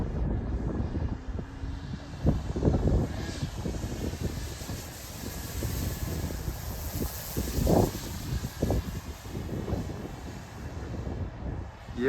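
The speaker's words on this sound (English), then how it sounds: "Bit of a breeze coming in." Gusting wind buffets the microphone outdoors while a 3D-printed radio-controlled stunt plane flies on its maiden flight, a steady airy rumble with louder surges, the small aircraft's engine droning faintly underneath.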